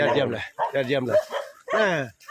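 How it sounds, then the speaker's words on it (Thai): A dog barks in several harmonic bursts close by, loud and repeated across a couple of seconds, at a rural village area named Ban Hin Yai during a forest walk to visit a monk. "หมาก็เห่าคนหล่อคนสวย"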